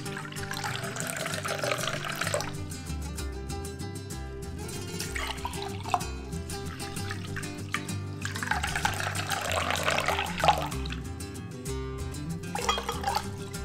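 Water poured from a tap into a measuring cup while preparing rice, a steady trickling fill that swells twice over a continuous background of music, close and moderately loud.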